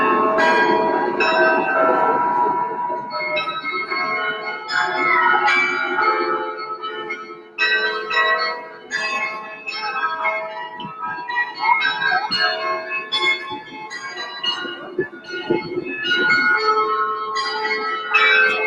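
Church bells in a bell tower chime out a melodic tune, a steady run of overlapping ringing tones that continues throughout at a moderate, resonant level.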